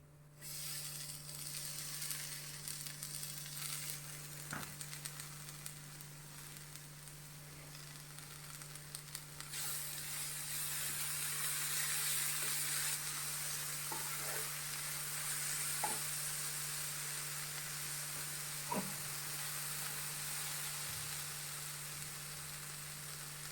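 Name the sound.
tomatoes frying in masala in a pan for bhindi masala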